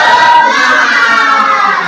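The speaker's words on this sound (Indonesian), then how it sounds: "Tepuk semangat." A classroom of eighth-grade students claps together in a rhythmic spirit clap, loud and close, with a dense patter of many hands and no clear speech.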